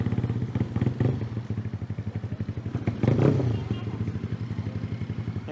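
A modified Honda CBR motorcycle being ridden, its engine pulsing in a steady rapid throb with a brief surge of throttle midway, close and prominent, while someone talks over it.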